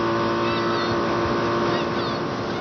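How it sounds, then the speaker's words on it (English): A motorboat engine at full throttle, with the boat circling at speed on open water, roars in a loud, unbroken drone with wind rush for the whole stretch. "The boat was going in a pretty good full circle at full throttle"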